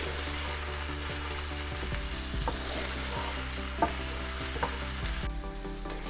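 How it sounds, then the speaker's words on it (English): Peppers and mixed vegetables for a veg pulao sizzle steadily in a hot pan while a spoon stirs them, with scraping knocks at intervals over the constant frying hiss, close and clear without talk. "Stir that in and let it cook along with the veg."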